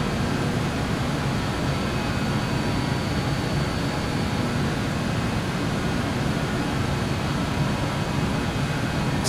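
An Avro RJ100 climbs after takeoff in Microsoft Flight Simulator 2024, through cloud and rain, with its jet engines giving a steady, loud, full roar. A faint whine sits on top, the sound holds even with no change, and nobody speaks.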